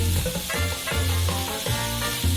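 Minced meat for shawarma frying in a pan, a steady close-up sizzle with soft crackling and occasional stirring scrapes, continuous throughout and without any voices.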